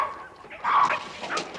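A dog yelps and barks in a short, whining burst, moderately close, within a period drama set in Victorian London.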